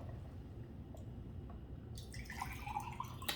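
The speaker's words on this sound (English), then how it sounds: "I'm gonna put 200 milliliters of water" Water pours into a blender holding apple, beetroot and carrot, a soft faint trickle with dripping and splashing that grows brighter and fuller in the last second and a half.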